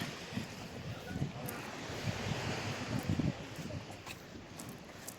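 Distant sea surf rumbles and washes continuously on a beach before low tide, mixed with gusty wind buffeting the microphone; no voices are heard.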